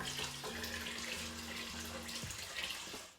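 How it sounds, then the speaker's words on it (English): Water pours in a steady, continuous stream into a pot of chili that already holds beef stock and dried beans, a close rushing splash with no talking. "I want to get it up almost to that halfway mark with water"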